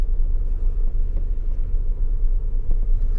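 Honda Civic CRX with a 5-speed, its engine running steadily while driving, a continuous low rumbling drone with faint ticks over it, close and fairly loud, no voices.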